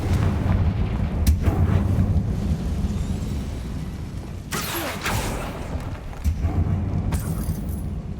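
A Confringo fire spell explodes in the Hogwarts Legacy video game, a sharp blast with a burst of crackling fire rising out of a steady low rumbling background, followed by a couple more bright bursts.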